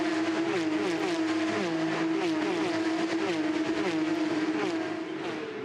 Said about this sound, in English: The latest generation of Carrera Cup car.